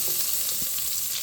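Garlic and ginger sizzle in rendered pork oil in a pan, a brief, steady crackling fry with faint stirring scrapes.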